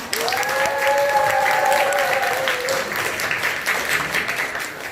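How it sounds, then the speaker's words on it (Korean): Loud, dense applause opening a June 2020 seminar, a full crowd clapping steadily while a few sustained tones ring over it early on, the clapping thinning slightly toward the end. "2020년 6월의 세미나 큰 박수로 시작하겠습니다."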